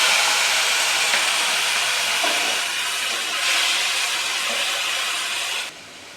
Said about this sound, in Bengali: এবার টমেটো পেস্টটা দিয়ে দিচ্ছি।